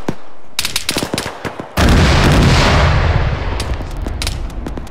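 Artillery bombardment in the combat game Arma 3: rapid loud bursts of fire give way to a sudden heavy roaring blast that rumbles and slowly fades, with sharp cracks continuing.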